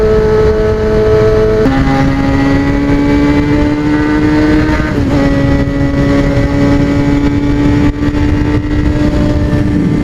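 A motorcycle rides nearby on the road, its engine droning loud and close, the pitch stepping up through gear changes over a steady road roar.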